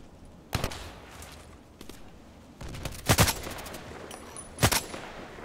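Sniper rifle shots in the online shooter Contract Wars, a few sharp separate cracks spaced across the moment, with quiet game ambience between them.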